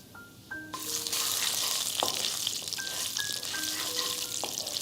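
Sesame seeds hit hot oil and burst into a bright, sustained sizzle after a brief quiet moment, with a few clinks and taps of a spoon scattered through the crackle.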